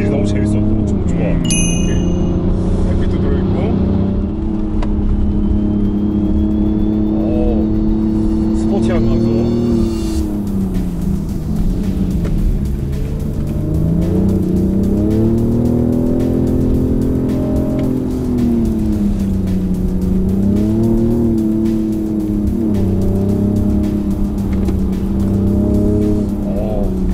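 Engine of a BMW M550d quad-turbo diesel sedan, close to two tons, driven hard along a twisty public road, a sustained loud drone repeatedly rising and falling in pitch with each acceleration and lift, while someone talks throughout.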